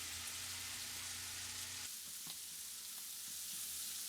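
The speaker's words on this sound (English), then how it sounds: "Brown the sausage so that it has that really nice crust." Sausage browning in oil in a pan gives a continuous soft sizzle, with a low background hum dropping out partway through while the frying hiss carries on alone.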